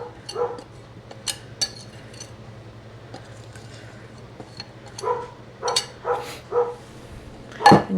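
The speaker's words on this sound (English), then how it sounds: "my dog barking like crazy outside" A dog barks outside in irregular bursts, faint and distant, heard from a kitchen where cornbread is cooking in cast iron, with a low steady hum underneath and a few clinks.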